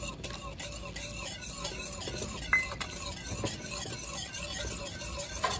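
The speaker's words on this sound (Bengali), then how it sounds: "এখানে যে চিনির ক্যারামেলটা আমি বানিয়ে রেখেছিলাম, এইভাবে অল্প অল্প করে দেব, আর এইভাবে মিশিয়ে নেব।" Sugar caramel stirred little by little into a simmering mixture for homemade yogurt in a pot, a spoon scraping and clinking in a steady rhythm over a soft sizzle, close and clear, with no speech.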